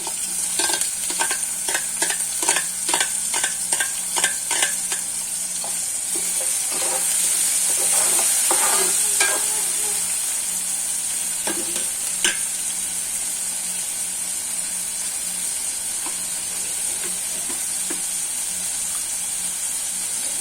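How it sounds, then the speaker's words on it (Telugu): Tomatoes frying with browned onions in a pan, with a continuous loud sizzle and a quick run of rhythmic stirring scrapes at the start, then steady hissing frying. "ఇప్పుడైతే టమాటోస్ వేయించుకుంటున్నాను"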